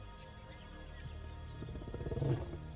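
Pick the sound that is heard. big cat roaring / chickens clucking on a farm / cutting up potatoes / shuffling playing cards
big cat roaring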